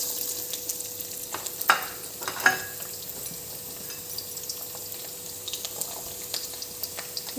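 Fenugreek seeds frying in a pan for a Kerala-style dried fish curry with mango, giving a steady soft sizzle with a couple of sharper clinks of stirring near the start, close and fairly quiet, with no talking.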